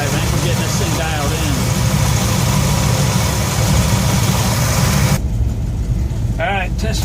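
A 1966 Ford F100 shop truck with an aftermarket cam and newly fitted Pertronix electronic ignition idles at about 750 to 800 rpm, a loud, steady, close engine drone while someone talks over it.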